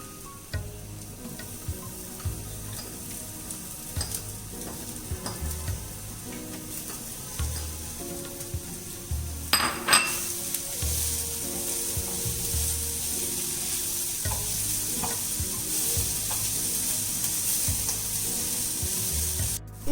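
Vegetables and fresh spinach sautéing in a pan for a cheese veg omelette, with a steady close sizzle and frying hiss, occasional stirring scrapes and clinks, growing brighter and louder midway as the spinach goes in.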